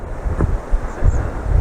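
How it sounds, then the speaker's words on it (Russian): Strong gusty wind in an apple orchard buffeting the microphone, a steady low roar with rising and falling gusts, close and loud throughout, with no voices. "Вот ветерок, так сказать. Бывают очень мощные порывы."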